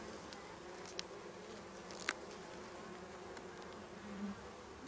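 Honeybee colony in a nucleus hive being readied for winter, giving a steady, close, soft buzzing drone with a few individual bees passing nearby.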